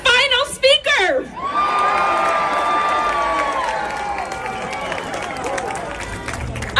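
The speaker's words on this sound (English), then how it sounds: "Let's give another round of applause to our Queens Borough President, Donovan Richards." A crowd at an anti-hate-crime rally in Queens claps and cheers, loud and sustained after a brief burst of shouting, with a sharp whistle rising above the roar.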